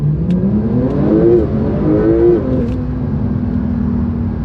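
A Porsche 911 992 Turbo S pulls hard at full throttle, its engine note climbing loudly through rising revs, dipping at a shift, then settling into a steady drone heard from inside the car.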